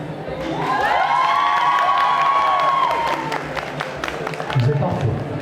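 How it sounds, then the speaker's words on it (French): A crowd at a cosplay contest in a Japan Party event hall erupts in loud cheering, whoops and shouts over rapid clapping, then thins to scattered claps. "On va faire un petit test d'applaudissements pour voir"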